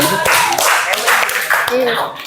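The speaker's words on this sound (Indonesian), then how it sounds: "Ya, tepuk tangan untuk Gani." Classroom clapping from students for a pupil ranked third, a brief burst of hand claps with a teacher's voice speaking over it.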